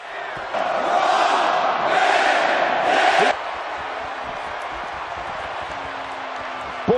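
A wrestling arena crowd roars in WWE 2K18 during a Rob Van Dam vs. Xavier Woods match, a dense, loud cheer lasting about three seconds before cutting off abruptly to quieter background ambience.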